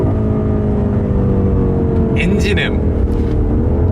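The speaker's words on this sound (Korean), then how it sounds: "M이라는 놈의 특성에 맞는 엔진음은 바로 이렇게" A BMW M8 Gran Coupe engine drones loudly and steadily, rising slightly in pitch, while someone talks over it.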